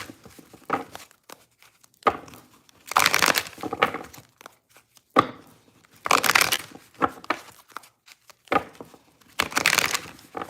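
A brand-new tarot card deck is shuffled in bursts, with crisp riffling and flicking of the cards that stop and start several times, close up, with a few soft handling noises between the shuffles.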